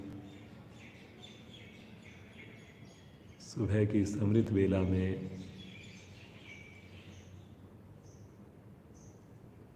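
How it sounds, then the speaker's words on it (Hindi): Faint, high bird chirps sound in the morning, sparse and distant, with a voice speaking briefly in the middle. "पक्षियों की मधुर चहचहाट को सुनते हुए प्रकृति के साथ जुड़कर"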